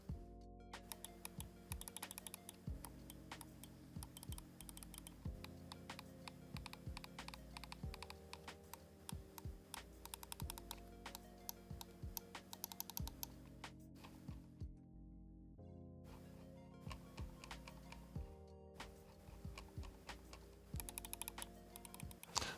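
ATK F1 gaming mouse with Omron switches clicked up close, a quiet, crisp series of rapid, regular clicks in steady runs with brief pauses, with no one speaking.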